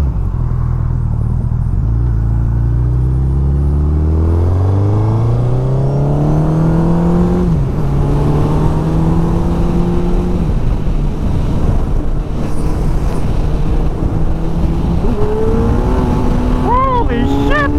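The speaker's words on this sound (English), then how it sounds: "I think I was in third gear and the bike It did a little burnout, a little wheelie at the same time." A Suzuki Hayabusa motorcycle with freshly synchronized throttle bodies accelerates hard in third gear while doing a small burnout, its loud continuous engine note climbing steadily in pitch with brief dips where revs shift.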